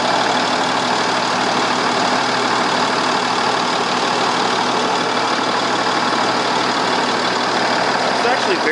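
A 2015 Freightliner M2 106 truck engine idles steadily and fairly loudly nearby as a continuous even rumble that does not change throughout.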